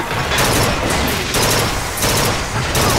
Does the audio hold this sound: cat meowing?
no